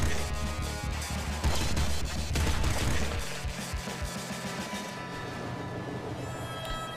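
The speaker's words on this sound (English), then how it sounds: "Machine gun. We're starting with machine gun." Rapid automatic machine-gun fire in the top-down shooter Nuclear Throne, dense clattering bursts over game music and effects, loudest in the first three seconds, then thinning into a busier low background.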